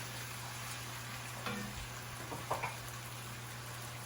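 Mixed vegetables for sofrito (green, orange and red) sizzle in a pot for a one-pot chicken and rice dish. A quiet, steady frying hiss runs throughout, with a few faint stirring clicks.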